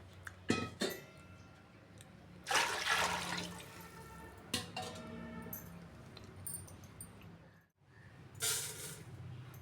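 Water is poured into a pot of rice in several gushing bursts, separated by quieter gaps, heard close with no talk.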